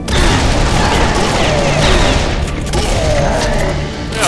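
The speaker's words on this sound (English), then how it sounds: "I like the shotgun." Shotgun firing in Serious Sam 3 amid a constant loud barrage of gunfire and booming explosions, dense and continuous throughout with no pauses.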